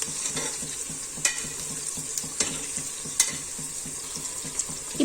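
Onions, tomatoes and green chili are sautéed in a pan, a soft continuous sizzle with a regular scraping stir repeating about three times per second and occasional sharp clinks of the spatula.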